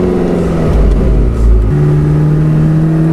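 Porsche 918 Spyder hybrid accelerating hard in hot lap mode, loud close interior engine roar with a steady rising tone and a brief gear shift midway.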